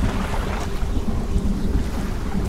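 Wind and rough sea surge around a small fishing boat in the game DREDGE, a steady loud rush of gusts and rolling waves with no voices.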